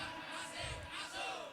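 A village crowd at a community gathering shouts a chant back in unison, a dense, sustained roar of many voices at moderate distance.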